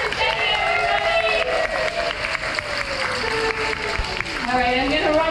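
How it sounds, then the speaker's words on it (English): A crowd applauds and cheers for a young steel drum performer named Jenny aboard the Ruby Princess cruise ship, steady dense clapping that fills the whole stretch with a voice rising over it. "Big round of applause for Jenny, everybody!"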